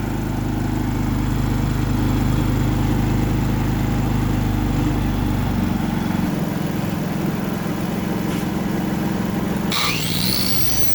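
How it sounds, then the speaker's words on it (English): A Harbor Freight Predator portable generator engine runs steadily with a buzzing mechanical drone, its pitch and hum shifting about midway as the RPM rises, with a brief clatter near the end. "engine RPM goes up."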